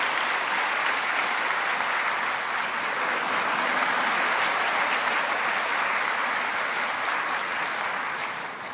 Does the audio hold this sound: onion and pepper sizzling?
no